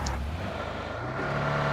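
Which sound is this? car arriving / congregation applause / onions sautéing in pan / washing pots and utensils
car arriving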